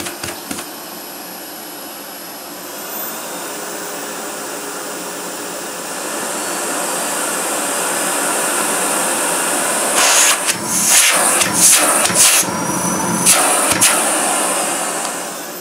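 A Sebo E3 Premium vacuum cleaner runs at its lowest suction setting, a steady airy motor hum that grows slightly louder, with bursts of rattling and sucking noise toward the end, close by and without speech.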